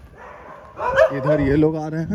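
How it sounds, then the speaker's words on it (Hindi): Several dogs barking on a street at night, close and loud, sharp repeated barks overlapping with someone talking nearby. "कुत्ते कितने भौंक रहे हैं यार"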